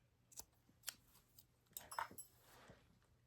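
Scissors snip off the yarn tail of a crochet tissue box cover, a few quiet, close clicks and snips spread over a few seconds in an otherwise still room.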